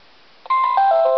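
A dashcam, faulty after less than a year, gives a short rising electronic chime of a few stepped tones as it shuts down, loud and close in a quiet car.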